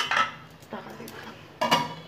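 Metal lid set onto a cooking pot of simmering fish curry, a few clinking metallic knocks, the last one the loudest, heard close with no voices.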